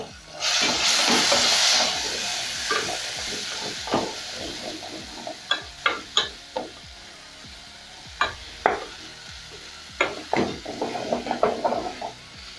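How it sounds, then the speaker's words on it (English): Tomato paste sizzles and fries in a pot, a burst of hissing steam early on followed by intermittent scrapes and clinks of a spoon stirring against the metal, close and without talk. "So I'm going to cook my tomato paste for about another minute"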